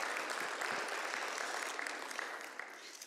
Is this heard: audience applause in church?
yes